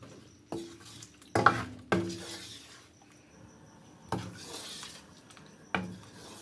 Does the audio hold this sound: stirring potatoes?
yes